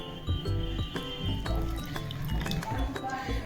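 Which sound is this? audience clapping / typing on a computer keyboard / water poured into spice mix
water poured into spice mix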